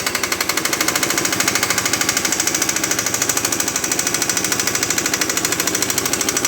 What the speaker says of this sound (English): I'm not going full bore with the air gun. I don't want to break the thing in there.